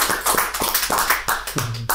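A short stretch of hand clapping, brisk and steady, from a small group close by.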